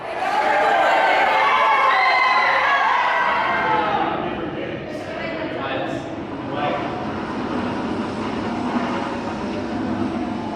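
Floorless roller coaster Superman Atracción de Acero at Parque Warner Madrid roars loudly from the front row, a sustained rumble and wind rush that swells early then settles into a steady ride noise, with riders' voices faintly mixed in.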